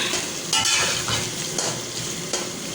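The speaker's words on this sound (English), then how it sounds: "add the onions. Saute it for" Chopped onions sizzle and hiss in hot oil in a pan for a biryani, with steady broadband frying noise punctuated by a few spoon-stirring scrapes and clinks, loud and close.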